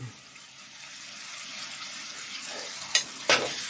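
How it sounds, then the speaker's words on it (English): Ground meat for a ravioli lasagna sizzles steadily in a pan while a mix-and-scoop spatula scrapes and stirs it, with a couple of louder scraping knocks near the end. "mix and scoop spatula to get all this meat off of the inside here, so we get it all cooked up."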